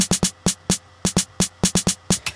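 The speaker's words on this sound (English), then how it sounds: "And then there's the snare." A dry electronic snare sample from a Logic analog techno drum kit is set in a Dutch house beat: crisp, punchy hits, often in quick pairs, repeat steadily and loudly in a tight groove, alone with no voices.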